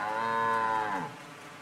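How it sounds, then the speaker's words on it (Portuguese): A cow moos once in a Thomas and Friends cartoon: one loud, drawn-out bovine low lasting about a second, sliding downward at the end, with no voices over it. "Isso me parece mais com uma vaca."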